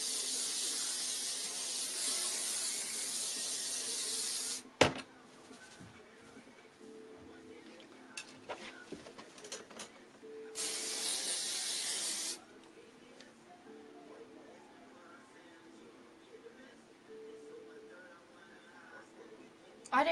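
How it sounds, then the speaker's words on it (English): L'Oreal Boost It Volume hairspray sprays in two sustained loud hissing bursts, one long blast at the start and a shorter one midway, with quieter handling rustles between and after. "I'm gonna put some hairspray. This is the Boost It Volume hairspray from L'Oreal."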